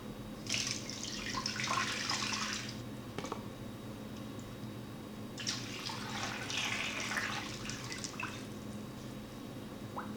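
Water poured from a tap or jug into a cooking pot holding chicken and onion, two splashing bursts of pouring with a brief pause between, close and steady with faint drips.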